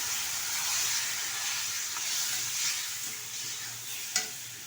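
Ripe mango pieces stirred in a hot pan for chutney, a steady close sizzle with soft stirring strokes and one sharp clink of the spoon near the end.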